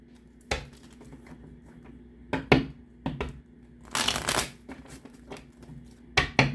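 A deck of tarot cards being shuffled, with scattered crisp riffles and slaps and one longer dense riffle near the middle, close to the microphone, with no talking.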